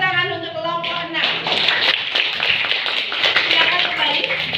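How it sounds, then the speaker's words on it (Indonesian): Classroom applause from students for a presenting group, dense clapping that rises after a brief moment and continues steadily and fairly loud, with some voices mixed in. "beri tepuk tangan untuk kelompok 6"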